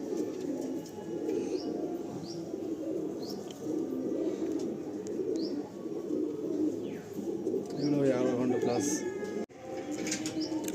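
Pigeons and doves at a Nepalgunj pigeon sale, with coos, wing flaps and chirps rising over steady crowd noise and nearby talk as painted, stamped female birds are let go.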